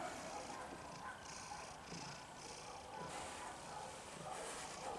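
A gray tabby cat purring close by, a soft, steady low rumble that runs the whole time beneath quiet background noise, with faint talking in places.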